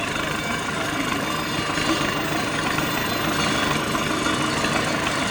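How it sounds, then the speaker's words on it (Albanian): A tractor engine runs steadily throughout, a loud continuous mechanical drone with low rumble, with no clear talk over it. "Nuk është e lehtë me vozit traktor"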